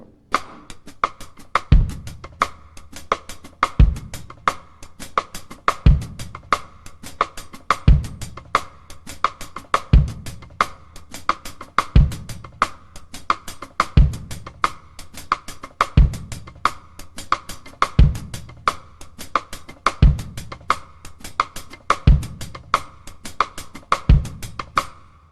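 A drum kit plays a steady groove of busy hi-hat strokes, quarter-note clicks on the snare rim and a bass drum thump about every two seconds, close and fairly loud, with no voice.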